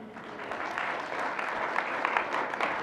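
Members of the audience at a city council meeting in Arvada applaud, a steady, moderately loud spell of clapping lasting a few seconds with no voices over it.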